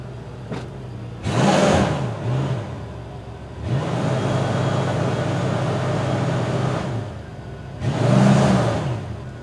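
An old yard truck engine revs in several loud bursts, swelling and falling with a steady idle rumble between them, close by with no talking.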